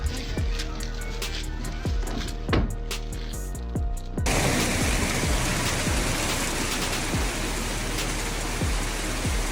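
Hailstones pound down in a storm, denting cars, a dense patter of impacts punctuated by heavier thuds that grows into a louder, fuller downpour roar partway through.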